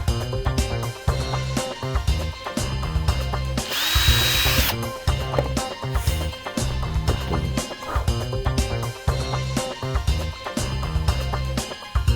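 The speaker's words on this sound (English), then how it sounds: "Drill those out" A power drill whirs in repeated bursts as it bores holes into cypress wood, loud and close, with a brief higher-pitched whine partway through.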